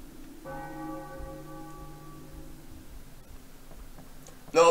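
Church bell in Final Fantasy IX rings out in a single sustained, resonant strike that fades over about two seconds, followed by quiet and a sharp sound at the very end.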